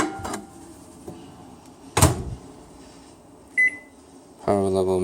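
A microwave oven heating a paper-towel-covered ear of corn on the cob on a plate, set to maximum power. Soft clicks and a thud lead to a short beep, then a loud, steady humming drone starts near the end.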